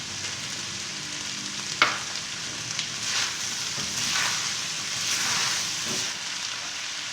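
Egg pieces tossed into cabbage and rice frying in a pan give a steady, close sizzle and hiss, with brief stirring clatters and scrapes breaking through now and then.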